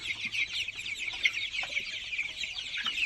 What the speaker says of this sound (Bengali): এই যে এটা মুরগির বাচ্চা বা ডিম দেওয়ার মুরগি হবে